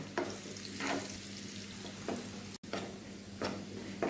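Onions frying in oil to make beresta, a steady close sizzle with occasional louder bursts of crackle, no talking.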